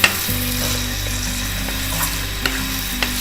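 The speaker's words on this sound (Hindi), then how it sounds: "इसको भूनना है।" Boiled minced keema frying and being stirred in a pan, a steady close sizzle with a few clinks of the spoon, no talking.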